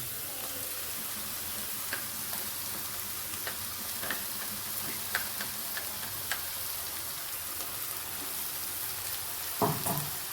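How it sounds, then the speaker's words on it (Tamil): Ground masala being sautéed with bitter gourd in a pan: a steady, fairly quiet sizzle runs throughout, with light scattered clicks of a spatula and a brief louder scrape near the end; no voices. "இப்போ வந்து அரைச்சி வச்ச மசாலாவை ஆட் பண்ணுறோம்"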